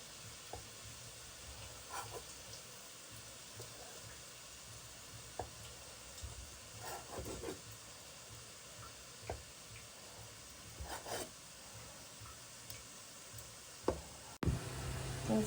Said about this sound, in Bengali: এই যে গজা ভেজে নিচ্ছি এই যে।